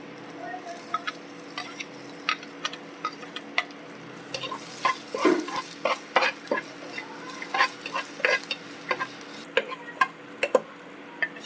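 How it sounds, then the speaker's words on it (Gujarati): Garlic sautéing in oil in a pan, a steady soft sizzle punctuated by repeated sharp clicks and scrapes of a spoon stirring against the pan, close and clear, no voices. "બે મિનિટ આપણે સાતળી લઈશું લસણને."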